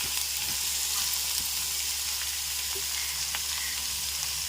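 Cluster beans fry in a pan with a steady, dense sizzle that runs without a break, with occasional faint stirring clicks.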